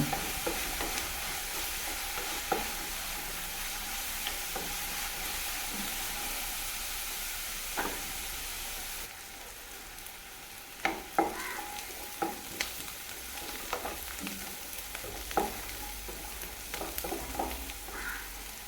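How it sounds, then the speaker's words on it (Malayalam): Onions fry in a pan under a constant sizzle, with scattered scrapes and knocks of a spoon stirring them, growing busier in the second half. "അങ്ങനെ ഇതാ നമ്മളെ ഉള്ളിയൊക്കെ നന്നായി മൂത്ത് വന്നിട്ടുണ്ട്"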